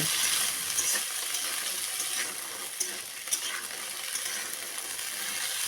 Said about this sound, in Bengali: এর মধ্যে ভেজানো ছোলাগুলো দিয়ে দিলাম ভালো করে মিশিয়ে নেব